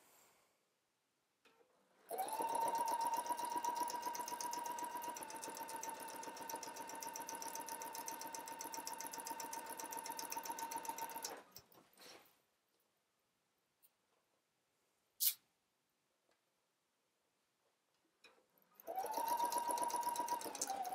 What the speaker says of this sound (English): going to go to the machine and sew this at 5/8 of an inch